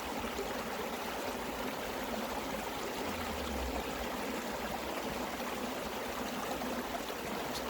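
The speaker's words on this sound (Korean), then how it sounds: "이렇게 물이 참 예쁘게 흐릅니다" Clear stream running steadily over a solid rock bed in a hillside garden setting, a constant close rushing and trickling of water with no pauses and no voices.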